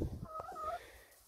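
Backyard chickens give a short, soft clucking call with a rising tonal note, close by and fairly quiet, with some low rustling noise at the start and no talking.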